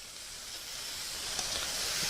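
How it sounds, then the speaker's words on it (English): Steady hiss of shrimp sizzling in a hot metal pan, a bright crackling spatter that builds slightly louder over a couple of seconds, no voices. "Oh, you can hear it. You can see the sizzle coming out of them."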